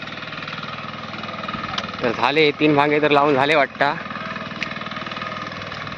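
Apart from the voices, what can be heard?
tractor engine in rice field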